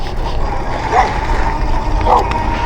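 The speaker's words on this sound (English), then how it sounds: "more small dogs" Small dogs give two short, sharp yips about a second apart over a constant background rumble, fairly close, with no talking.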